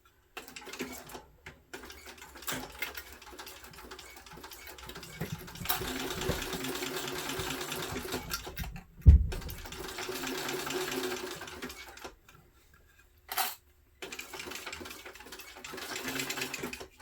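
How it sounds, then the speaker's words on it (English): A sewing machine stitches fold-over elastic onto mesh fabric at a long stitch length, running in steady bursts with short pauses, one sharp thump midway and a brief stop near the end, close and clear with no talk. "sew on the fold over elastic to my mesh so that I can sort of have that nice and finished"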